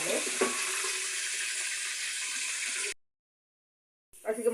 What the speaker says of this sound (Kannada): ಸ್ವಲ್ಪ ಚೆನ್ನಾಗಿ ಫ್ರೈ ಆಗಲಿ ಮಸಾಲೆ